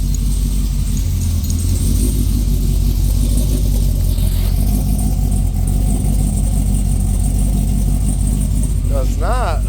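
A supercharged Chevrolet Corvette C6 engine rumbles steadily and loud, a deep continuous drone with a brief rise near the end, and voices talk over it.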